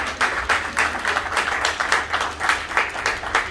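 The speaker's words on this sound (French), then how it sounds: "Applaudissez pour les témoins." Wedding guests applaud the witnesses with a lively, steady burst of many hands clapping, close and continuous for several seconds.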